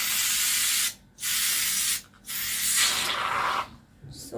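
Hair mousse sprays from an aerosol can in three or four loud, close hissing bursts separated by short pauses.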